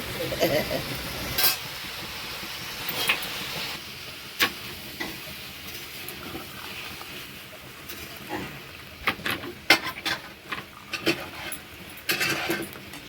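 Prawns frying and being stirred in a pan, giving a steady sizzle broken by irregular sharp scrapes and clicks of a utensil against the metal, close by.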